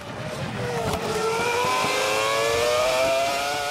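Formula One cars of the 2002 season, including BAR cars, scream past at a race track with high-pitched engine whine and rising gear-change sweeps, loud and continuous over crowd ambience.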